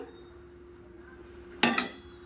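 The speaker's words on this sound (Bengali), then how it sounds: "এই বাটিটা বসাবো" A metal cooking bowl set down in a home kitchen while preparing a mustard-oil pumpkin and prawn dish, giving one short, fairly loud clinking clatter near the end after quiet room tone.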